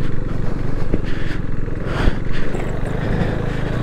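KTM RC 390 sport bike with fairing ridden off-road on rough ground, its engine droning steadily and close throughout with scattered clatter and scraping from the bumpy terrain.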